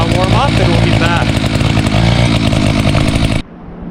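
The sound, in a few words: Echo CS590 chainsaw idling while warming up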